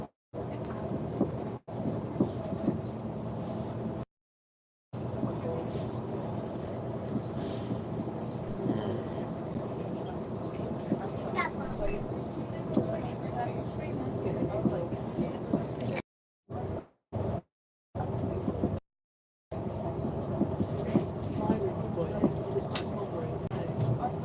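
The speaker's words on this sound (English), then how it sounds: "Okay, so I'm on a train." Rumbling low noise inside a moving train carriage, steady and continuous with wind-like buffeting, broken by several short dropouts of silence; no talk stands out above the carriage din.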